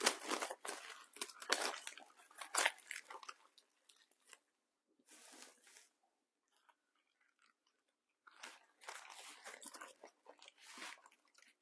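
A rested smoked pork butt is unwrapped from its butcher paper or foil, giving close, soft crinkling and wet squishing in bursts separated by short silences, with no voices.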